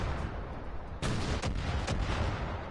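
Mortar fire in Far Cry 5 thumps out as a few heavy, closely spaced booms over a dense, steady roar of battle noise, loud and near.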